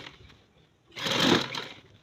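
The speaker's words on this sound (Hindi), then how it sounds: "तो फिर मैं सिलाई लगाना शुरू करती हूँ इधर" A sewing machine begins stitching a trouser, a single close burst of rapid whirring lasting about a second after a quiet moment.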